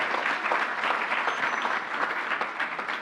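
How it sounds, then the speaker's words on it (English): Steady, dense applause from an audience after an Irish ballad at a New York governor's briefing, continuous and fairly close for the whole stretch. "Let's give him another round of applause"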